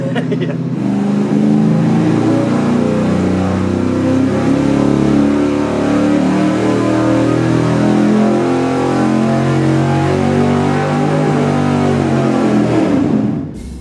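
A V8 engine on a dyno revs hard through a sustained full-throttle pull with 10 degrees more ignition timing, a loud, close, steady roar with rising harmonics for about thirteen seconds before cutting off abruptly.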